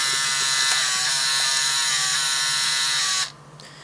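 A Game Boy Printer feeding out sticker paper gives off a loud, steady mechanical whir with a high buzzing tone for about three seconds. It then stops abruptly, leaving quiet.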